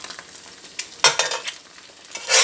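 Eggs frying in a cast iron pan, the hot sizzle swelling in loud bursts as they are turned over, with scraping and spattering between.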